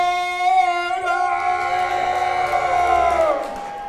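A live professional wrestling show crowd cheers and whoops loudly for a wrestler introduced as Canadian strong style Rob Stardom, a sustained roar of many voices with no clear speech.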